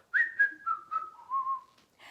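A human whistle imitates an emperor penguin chick, a short series of descending clear tones, the first bright and high, the later ones lower and longer, close and fairly soft in a quiet room.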